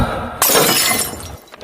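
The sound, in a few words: drinking glass breaking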